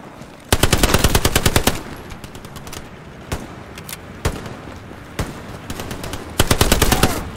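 Bursts of automatic and single gunfire from the WWII shooter Hell Let Loose, set in the North African desert battle of El Alamein: a loud rapid machine-gun burst opens, sharp isolated shots follow, and another fast burst closes, with no talk.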